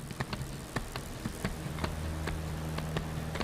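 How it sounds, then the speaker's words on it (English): An aircraft engine in the DCS World flight game sputters with the throttle pulled back, giving irregular popping bursts over a low, uneven engine rumble, fairly quiet and with no talk. "You can hear it doing a little bit of spluttering there because the throttle's down."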